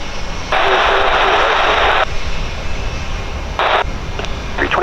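A jet airliner rolls for takeoff on runway 28 right at Portland airport, a loud broad roar swelling for a couple of seconds, then shorter bursts of engine noise over steady background rumble.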